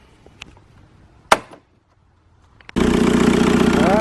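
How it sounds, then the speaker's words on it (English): A VW Jetta TDI ALH diesel engine, after head gasket work, gives a few sparse clicks and a sharp knock, then fires up into a loud, steady clattering idle that continues to the end. "once you get a good amount of fuel coming out the injectors, it should fire up"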